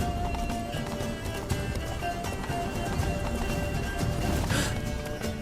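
Roach, Geralt's horse in The Witcher 3: Wild Hunt, runs with quick, close clip-clopping hoofbeats over a busy, noisy backdrop, and a neigh rises near the end.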